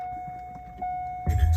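A car engine cranks and catches, a sudden loud rumbling roar that follows a steady quiet whine and stays running to the end.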